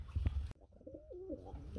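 A pair of grizzle pigeons at a pigeon market coos once: a soft, close, gliding call that follows a brief thump, with quiet background noise and no speech.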